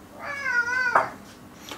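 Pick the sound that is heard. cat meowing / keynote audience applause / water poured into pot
cat meowing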